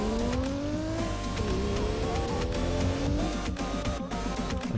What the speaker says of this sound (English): this is what a Supra should sound like